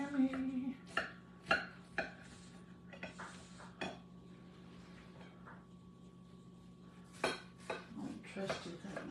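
Kitchen clatter while a big knife cuts a loaded chicken sandwich, several sharp clinks and knocks of the blade and dishes spaced out over quiet, close, with a person talking.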